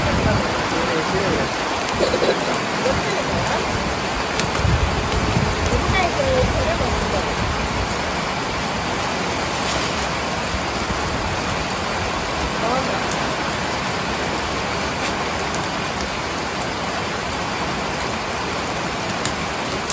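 Steady, dense rainfall hisses and patters on surfaces throughout, a constant close wash of sound with no pauses.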